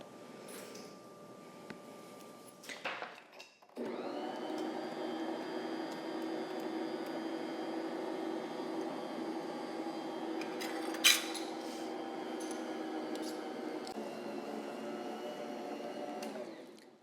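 A stand mixer kneads cinnamon roll dough with a steady, close motor drone that holds evenly for most of the stretch, broken only by a brief clatter.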